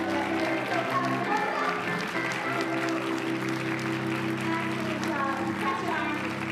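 A council work session audience applauding in a large hall, a continuous wash of clapping with cheering voices and a sustained tone underneath, steady and fairly distant.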